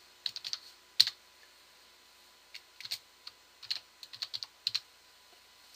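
Light, quick keystrokes on a computer keyboard as a file name is typed, scattered irregular taps in short bursts against a quiet room.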